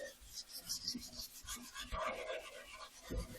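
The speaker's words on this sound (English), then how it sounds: "I'm taking some 400 grit and just giving it a light sanding to get the initial surface imperfections out of it" Hand sanding a surface with 400 grit sandpaper, light irregular rasping strokes that are close and fairly quiet, with uneven bursts of scratching.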